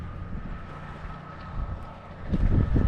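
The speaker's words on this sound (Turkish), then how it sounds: "biraz traktörü zorlatıyor" A tractor engine rumbles steadily and labours as it works a root-filled field being prepared for a potato planting. The sound is wind-buffeted, and the low drone gets louder and rougher toward the end. No one speaks.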